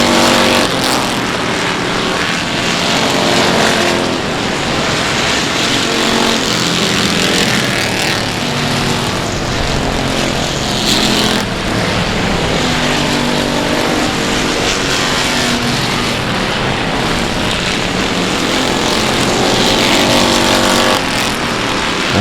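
Race cars circle an oval track at South Texas Speedway, pushing through heavy traffic. Their engines make a continuous loud roar that swells and fades as cars pass, with no voices over it.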